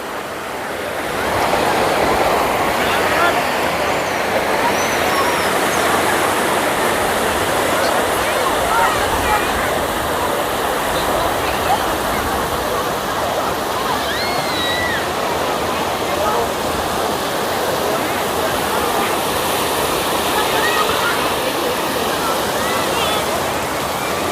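Sea waves wash steadily onto a beach at Sattahip, a continuous broadband rush of surf with no distinct breaks, close and fairly loud, with occasional faint voices in the background.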